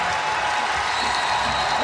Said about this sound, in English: there's a lot of red in the stands here in Greensboro, applauding this start by NC State